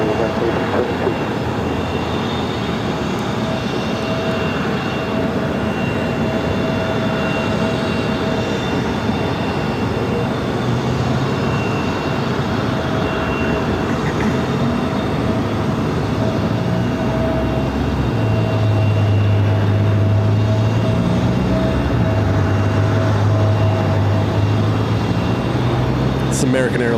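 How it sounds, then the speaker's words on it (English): An American Airlines Airbus A321neo arriving from Dallas at Phoenix airport, a steady broad jet roar with a low rumbling swell toward the end, heard continuously with faint radio chatter and voices under it. "American Airlines flight 1015 coming in from Dallas on an A321neo."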